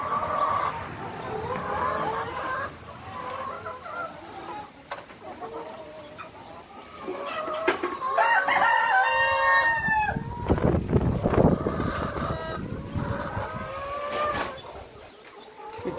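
Laying hens cluck steadily on a poultry farm while a rooster crows loudly partway through, with other birds calling over constant barnyard background noise.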